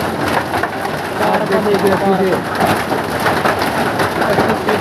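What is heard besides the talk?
heavy rain with hailstones falling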